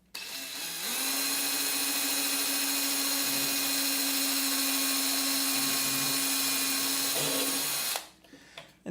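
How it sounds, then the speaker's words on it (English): A power drill bores a strap-button hole into the wooden body of a ukulele, whining steadily and loudly for about eight seconds before cutting off, with no talk over it. "You're going to drill a hole"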